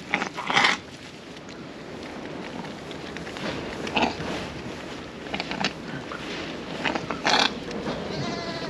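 Lambs bleat in short, scattered calls over a low background rumble, with a louder cry near the start and another near the end.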